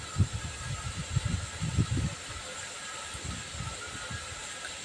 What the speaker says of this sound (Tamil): நல்லா சாஃப்ட் ஆகிற வரைக்கும் இப்போ நல்லா இதை வதக்கிக்கலாம்